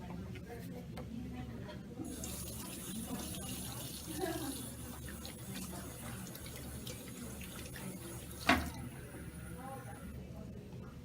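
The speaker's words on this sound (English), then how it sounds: "she's going to wash her hands again before she puts the gloves on" Running water from a tap splashes steadily as hands are washed at a sink during infection-control preparation, a continuous moderate rush with a brief louder splash near the end.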